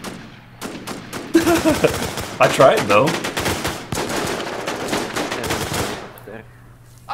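Rapid gunfire in the online shooter Infestation, dense bursts of automatic shots and cracks crowding the middle of the clip, loud and close, with people talking over and between the volleys.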